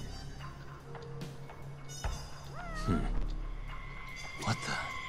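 A cat in the video game Judgment lets out a clear, rising-and-falling meow near the middle, followed by a second shorter call, over city game ambience with someone talking.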